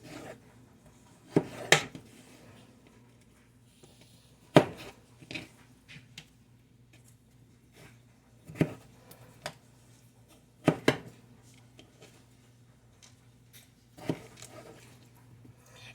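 A knife slicing potatoes for homemade french fries, sharp isolated cuts and knocks against a board spaced a few seconds apart, quiet between strokes with a low hum beneath.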